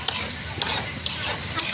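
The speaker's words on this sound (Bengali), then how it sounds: "5 থেকে 10 মিনিট এগুলো একটু ভেজে ভাজা ভাজা করে একটু কিছুক্ষণের জন্য ঢেকে রাখবো।" Onions frying in oil in an outdoor yard pot over a brick fire for biryani, a steady close sizzle broken by a few scraping stirs, with no talking.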